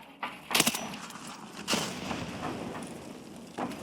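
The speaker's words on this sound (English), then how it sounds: "I'll throw a nade instead." A grenade goes off in a first-person shooter video game, a sharp loud blast followed by a rumbling tail, with a few more distant booms and impacts around it.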